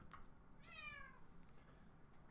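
A house cat gives one short, upset meow, faint and alone against quiet room background.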